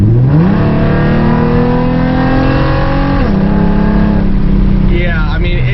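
A 4.0-litre V6 Mustang fitted with an idle chop mod revs up steadily from a low rumble, holds a loud sustained drone, then drops pitch and settles, heard from inside the car while on the road.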